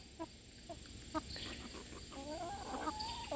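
Chickens cluck and murmur close by, with short staccato clucks early on and a rising, warbling call toward the end over a steady background hum.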